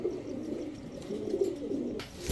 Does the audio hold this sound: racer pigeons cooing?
yes